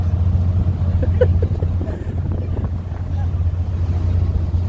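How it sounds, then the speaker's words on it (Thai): A vehicle ferry carries cars across the sea from Koh Chang to the mainland, its engine running in a steady low throb under wind buffeting and faint voices. "เฮ้ยเรือแบกรถ"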